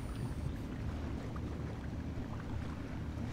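A boat motor idles in the GTA 5 video game, giving a steady, low droning rumble that holds an even level throughout, with no talking over it.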